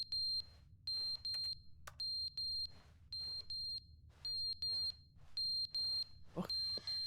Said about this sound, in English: Is that like a smoke alarm or something?